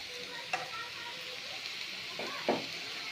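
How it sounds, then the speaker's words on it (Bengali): Potatoes frying in a pan, a soft steady sizzle with two brief louder stirring scrapes, close and moderately quiet throughout. "আলুটা ভাজা হয়ে যাবে"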